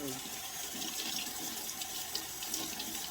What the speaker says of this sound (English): So I already washed this, but I'm just going to rinse off the little excess